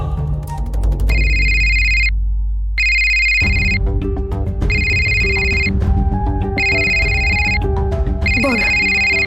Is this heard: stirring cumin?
no